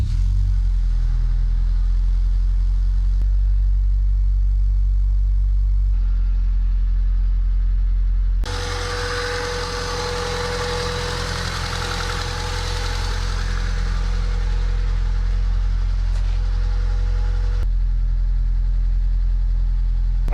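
A Honda car with a newly installed exhaust idles with a low, steady rumble, the pitch shifting slightly as the revs change, no talking.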